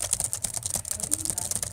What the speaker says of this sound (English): And I am typing in Swedish about the history of Sweden.